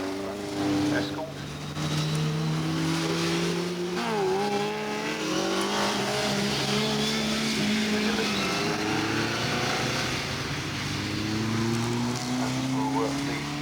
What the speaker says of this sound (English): The engine revs start to rise.